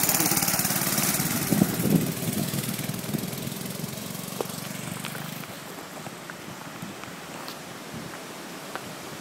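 A small minibike engine with a modified governor runs nearby, a buzzing putter that is strongest early and then settles into a fainter, steady idle with occasional light clicks.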